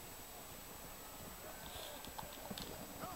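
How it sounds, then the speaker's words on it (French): Horse hooves clip-clop steadily in Red Dead Redemption, a quiet rhythmic gallop under a faint continuous hum, with a short whinny-like sound near the end. "je prends mon cheval"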